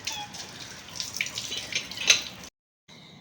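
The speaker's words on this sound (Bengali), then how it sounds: "ওদের এখন জলের কলটা চলছে" A water tap runs at a village house, a steady close splashing stream that cuts off abruptly near the end before a short, fainter resumption.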